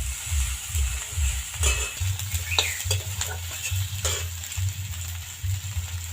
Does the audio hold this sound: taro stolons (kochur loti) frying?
yes